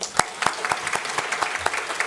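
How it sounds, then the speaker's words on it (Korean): A congregation at a Sunday church service claps together, a fairly loud, close run of hand claps with some distinct sharp strikes and a light murmur of voices underneath. "우리 박수하겠습니다"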